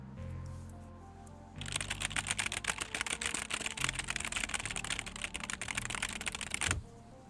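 Rapid typing on a Corsair computer keyboard, loud, clicky and close, with a dense run of keystrokes that starts abruptly after a quiet lead-in and stops just as suddenly near the end.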